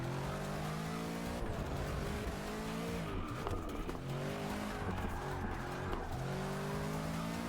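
A Bentley race car in the Forza Motorsport 6 video game roars through corners, engine note rising and falling with gear changes and bursts of tire squeal, loud and continuous without speech.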